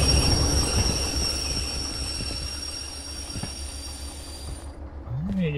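A train rolling to a stop in the Derail Valley game: steady rumbling wagons and wheel noise with high whining tones, fading out near the end as a low squeal rises.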